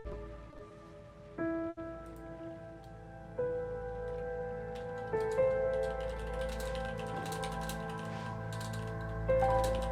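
Keys clatter on a computer keyboard in quick irregular bursts, soft and close, over a steady background of game music.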